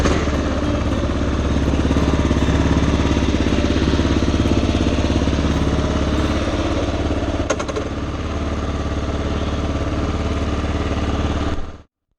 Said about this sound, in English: It sure was a relief to hear the KLR start up.